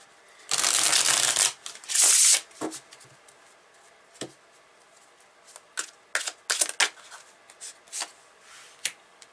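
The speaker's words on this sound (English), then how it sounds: "Alright, so let's pull some more cards here." A tarot deck is shuffled in two loud bursts of riffling cards, followed by scattered soft slides, taps and flicks as individual cards are pulled and laid down, close and alone without talk.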